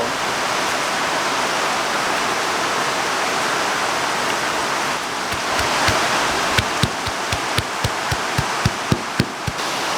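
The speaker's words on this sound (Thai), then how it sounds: "ตอนนี้เสียงฝนดังมากครับ" Heavy rain pours in a dense, steady hiss, joined in the second half by a series of sharp, regular knocks close by.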